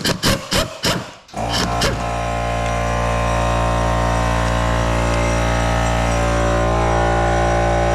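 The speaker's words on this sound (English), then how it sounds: "The other side, get them off with the impact." A pneumatic impact wrench rattles off transmission bolts on a Foxbody Mustang in short bursts, then gives way to a loud sustained machine whir that runs steadily to the end.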